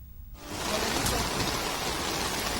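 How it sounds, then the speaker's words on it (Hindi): Heavy monsoon rain pours down in Dwarka, Gujarat, where streets flooded: a dense, loud, unbroken hiss of rain starts abruptly after a brief quieter moment and continues steadily. "और अब देखिए गुजरात में बारिश से क्या हाल है।"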